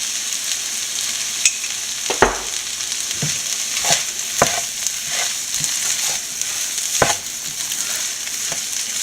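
A spicy bread bonda filling is stirred in a frying pan: a steady, close sizzle with several sharp spoon scrapes and knocks against the pan at irregular intervals, no voices.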